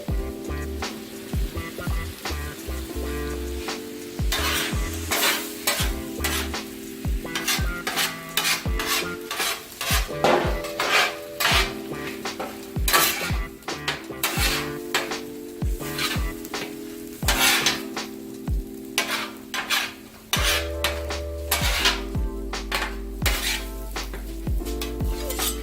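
Scrambled eggs and onion frying on a 36-inch Blackstone griddle, a loud steady sizzle broken by frequent metal spatula scrapes and clanks against the flat top, repeated throughout, with no talking.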